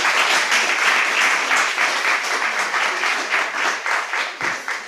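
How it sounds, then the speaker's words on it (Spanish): Audience at a community committee meeting applauding, a steady dense round of clapping lasting several seconds, close and full, with no talk over it. "Gracias, un aplauso."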